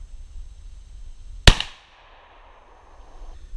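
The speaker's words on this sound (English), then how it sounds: "Okay, I'm going to take a good careful shot." A single sharp blast from a Remington 870 shotgun firing Federal Flite Control #1 buckshot outdoors at a 30-yard pattern target, with a brief decaying echo over quiet background.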